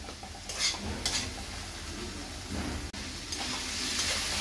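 Potatoes and beans stirred in a cooking pan, with a spoon scraping through the mixture over a steady sizzle and a few light clinks of metal.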